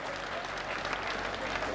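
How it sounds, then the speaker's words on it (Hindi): Audience applause at a Hindi hasya kavi sammelan, a dense, steady patter of many hands clapping for a brief stretch, with no voices standing out. "उनके इस सौभाग्य के लिए भी पूरे सदन की तालियां बजे यार"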